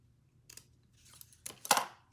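Scissors snipping through card stock during card making, a few short crisp cuts building to a louder final snip, close up in a quiet room.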